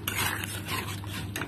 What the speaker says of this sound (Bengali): এবারে আমি ছানাগুলো মশলার মধ্যে দিয়ে দেব। দিয়ে আরো 1 মিনিট মতন আমি কষিয়ে নেব।